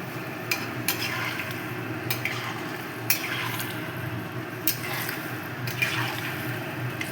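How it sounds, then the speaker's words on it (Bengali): Hot water goes into a simmering pumpkin and potato curry, followed by stirring and sizzling in the pan, with a series of sharp spoon clinks against the pot at irregular intervals over a steady cooking hiss. "জলটা আমি গরম করে রেখেছিলাম সামান্যতম জল দেবো"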